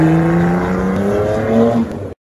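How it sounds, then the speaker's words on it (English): A turbocharged Nissan Skyline leaves a car meet, its engine revving up in rising pulls through a loud exhaust until the sound stops suddenly. "Listen to that turbo."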